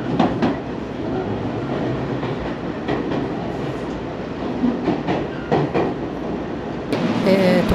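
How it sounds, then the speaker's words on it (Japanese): An express train bound for Hon-Kawagoe pulls into a station platform in Saitama, a steady rumble and clatter of railcars lasting throughout, fairly loud and close, with brief brighter squeal near the end. "ホームには本川越行きの急行電車が入線してきましたので、こちらに乗車したいと思います。"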